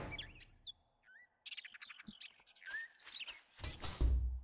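Bird in the survival game 7 Days to Die, a string of quick, bright chirps and whistled tweets coming close and fairly clear, broken by short gaps, with a few soft thumps like footsteps toward the end.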